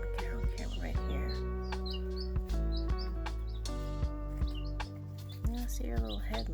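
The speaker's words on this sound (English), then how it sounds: "The chirping is quieted down." A chick gives scattered, faint high chirps and peeps close by, with someone speaking softly over a low hum.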